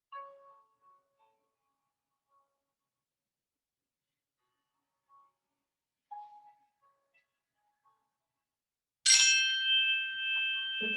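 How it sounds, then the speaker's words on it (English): A single bright chime rings out near the end of a quiet restorative yoga session, clear and close, then lingers as it slowly fades. "With the sound of the chime, we're just gonna slowly move our legs first"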